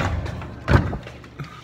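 A door thumps shut once, fairly close, during a casual visit to a friend's place at Anna Maria College, with faint room noise and scuffling around it.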